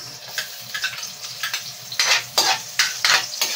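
Onion frying in oil in a home kitchen, a steady close sizzle broken by repeated bursts of scraping and stirring that grow louder toward the end, with no talking.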